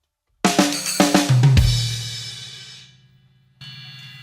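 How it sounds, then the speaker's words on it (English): A drum fill with quick snare strokes that lands on a bright splash cymbal in place of a tom hit. The cymbal wash rings and decays, then a softer cymbal tap follows near the end. "Now, instead of hitting that tom, why don't you try to hit a splash cymbal?"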